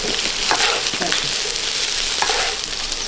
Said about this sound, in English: So we're going to finish stirring this